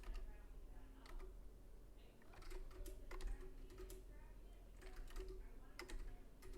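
Keys clatter on a computer keyboard while someone writes code, a faint, steady run of irregular clicks and taps over a low background hum.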